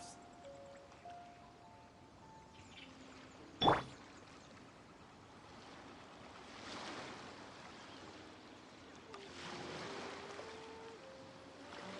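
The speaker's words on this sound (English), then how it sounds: "The sound of the ocean waves." Ocean waves wash and surge in a steady, low rumbling hiss, fairly faint, with a brief sharp knock early on and swells building toward the end.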